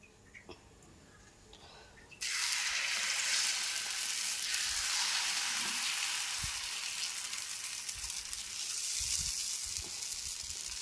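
Pesarattu, a moong dal dosa, hits a hot pan with a sudden loud, steady sizzle after a brief quiet moment, the hiss holding close and even to the end with faint clinks underneath.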